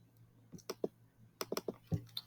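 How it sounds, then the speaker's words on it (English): Keys clack on a computer keyboard while text is entered into a spreadsheet cell: a few sparse single taps, then a quick cluster of keystrokes, quiet and close over a faint low hum. "we will type test 3 in cell B22"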